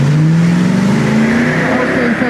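A Porsche drag car launches on one of its first runs at a drag racing event, engine roaring loud and close with a rising pitch as it accelerates hard.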